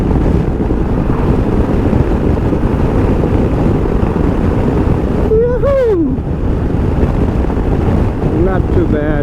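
Heavy wind turbulence roars steadily around a rider on a 2021 Honda Africa Twin CRF1100 with DCT at speed behind a small windscreen, a constant broadband buffeting with a brief rising tonal whine partway through.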